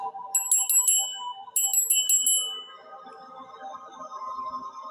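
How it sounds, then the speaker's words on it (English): A small hand bell is rung in two quick bursts of bright, rapid metallic dings, close and clear, then fades as a soft hum lingers beneath. "let's do this bell again over the..."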